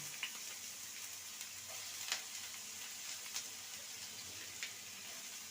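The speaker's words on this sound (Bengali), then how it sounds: "গাজর আর আলুকে ভালো মতন ভেজে নেব" Cut potatoes and carrots frying in hot oil in a pan, a soft, low-level sizzle running throughout, dotted with a few light stirring ticks.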